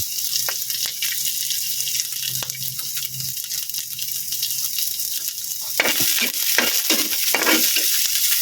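Red onions sizzle in coconut oil in a pan, a steady frying hiss, and sharper stirring scrapes come in near the end.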